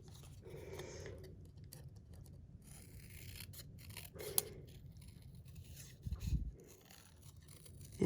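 Scissors fussy-cut around embossed cardstock, producing quiet, close snipping and rubbing sounds in short bursts over a low background hiss.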